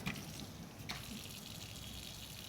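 A strong stream of cold mineral water gushes in a steady, continuous rush that sounds fairly close, with a brief splash early on.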